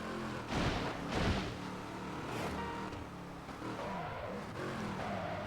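Race car engine in a video game race, revving and roaring with a couple of loud surges early on, then a sustained whining drone, fairly faint overall with no talking.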